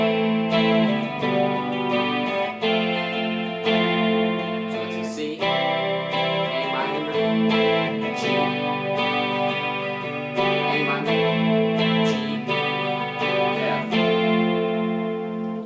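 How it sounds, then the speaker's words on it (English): Electric guitar playing worship-style chord progressions through distortion and delay, strummed chords ringing in a steady rhythm with echoing repeats and sustained tails, loud and close with no talking. "I've chosen to use a little bit of distortion and delay."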